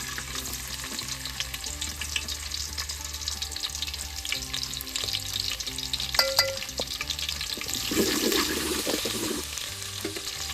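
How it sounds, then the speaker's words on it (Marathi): Onion frying in hot oil for a village-style mutton curry cooked over a wood-fired clay stove gives a dense, continuous sizzle with a few spoon scrapes and clinks, close and steady, and nobody speaks. "आता तेल तापलेलं आहे आपण यामध्ये कांदा टाकूया"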